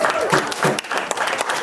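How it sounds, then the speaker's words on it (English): An audience claps at a live music and talk show, a dense burst of clapping with a voice faintly mixed in underneath. "When you clap too strong,"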